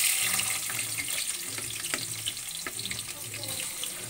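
Onions for chole frying over high heat in a pan make a steady, close sizzling hiss with small crackles and pops throughout.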